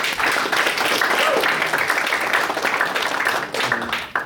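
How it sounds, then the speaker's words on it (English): Clapping from a meetup audience greets a presenter, a steady wash of hands that runs several seconds at even strength before tapering near the end. "Round of applause to him."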